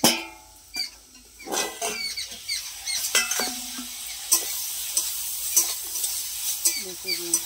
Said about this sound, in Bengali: কড়ার মধ্যে একটু তেল দিয়ে কলমি শাকটাকে তুলে দিয়েছি